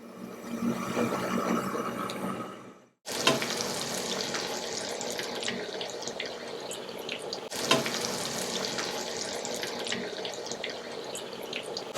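Batter-dipped paneer bajji sizzle in hot oil with a dense, steady crackle, close and continuous, broken by two short gaps where pieces are dropped in and the frying surges again.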